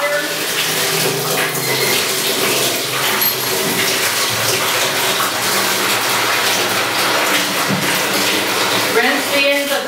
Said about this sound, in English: So run lukewarm water through the chiller sink with lukewarm water.